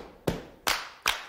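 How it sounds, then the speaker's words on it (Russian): Three sharp, evenly spaced claps from a group of children, each with a low thump like a stomp, keeping time with a 1972 Soviet school dance song about clapping and stomping, close and loud with no voices. "итак, хлопайте и топайте, ребята."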